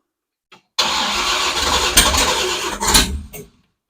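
A Ford Galaxie engine cranks and catches, roaring up loudly and running for a few seconds before cutting off, with a brief click just before it starts.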